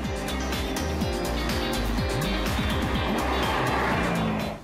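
A Chevrolet Corvette Grand Sport C7 with a naturally aspirated 343 kW V8 drives hard, its engine note rising and falling through quick rev sweeps and gear changes, loud and close.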